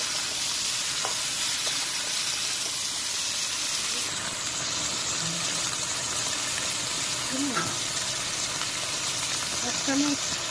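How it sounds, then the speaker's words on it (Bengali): Beans, potatoes and onion fry in a pan with a loud, steady sizzle and hiss, while a person talks over the cooking. "পেঁয়াজটা একটু ভেজে নেব। এখন তরকারি দিয়ে দিব,"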